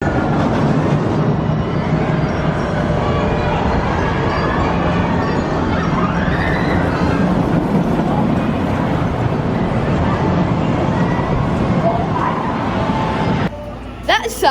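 Roller coaster ride on Silver Bullet at Knott's Berry Farm: a continuous loud roar of wind and rumbling track noise fills the whole ride, steady and intense, easing off near the end as the train slows.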